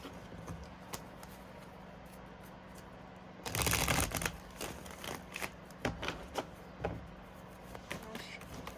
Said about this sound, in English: I'm gonna reshuffle just for the sake.